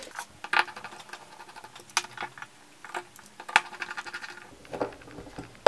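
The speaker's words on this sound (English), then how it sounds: "I take one side of the stand and screw it on with 6mm screws" Small 6mm screws being driven by hand into a quadcopter frame stand, a series of sharp metallic clicks and scrapes at close range with irregular timing and no voices.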